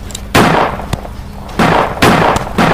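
Gunshots in the Roblox version of the Choo Choo Charles game: several loud, sharp bursts of fire, two clustered pairs with a lone crack between, each ringing out over a low steady background.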